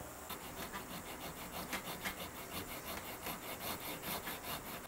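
A Shinto rasp shapes wood on a guitar build (Ceres Theta), giving a steady run of quick, scratchy rasping strokes at moderate level with no voices.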